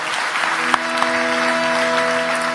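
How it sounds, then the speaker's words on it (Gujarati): Audience applause at a Gujarati folk literature stage program, a steady wash of clapping from a crowd that carries evenly through the whole stretch, with a sustained musical drone underneath and a couple of sharp louder claps standing out. "અમારી ટીમને એક વખત જોરદાર તાળીઓથી વધાવો."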